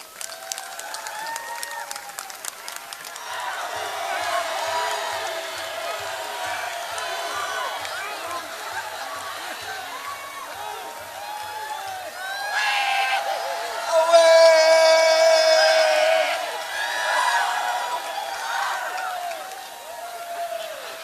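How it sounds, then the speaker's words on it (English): A large festival crowd at the Hornbill Festival applauds and cheers, sustained clapping with whoops and shouts that swell midway, heard from within the audience. "a huge round of applause."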